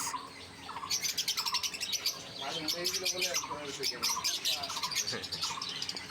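Six young lovebirds of different colours chirp in a cage, rapid overlapping tweets and trills repeating throughout, close and lively with faint background noise.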